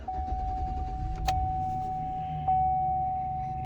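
A Chevy/GM truck engine turns over after the key is turned in the ignition and settles into a steady low idle rumble, with a thin electronic chime tone running over it and a brief click partway through.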